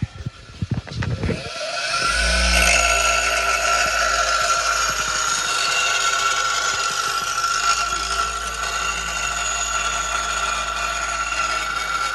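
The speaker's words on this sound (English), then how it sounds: "So we're gonna grind some more off that edge there" A grinder cuts down a metal edge while fabricating a turbo mount for a Malibu, starting after a few short clunks and then running as a loud, steady, high whine with harsh metallic rasp.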